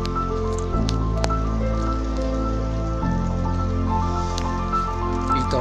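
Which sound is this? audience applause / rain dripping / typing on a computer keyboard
rain dripping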